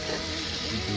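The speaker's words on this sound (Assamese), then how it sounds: "আগতে প্ৰথমে কেঁচা চব্জিখিনি ভাজি লওঁ" Raw vegetables, beans, carrots and cauliflower with a little turmeric, sizzle briefly in a hot pan for egg and vegetable biryani, a steady close frying hiss with no talking.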